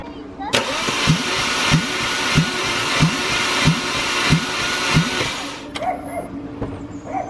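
A BMW N54 engine cranks on the starter during a cylinder compression test, giving a steady run of about nine rhythmic compression pulses at close range before it cuts off, with a faint voice afterward.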